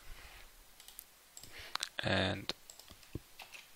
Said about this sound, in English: This server needs authentication, so we can now type in our user details.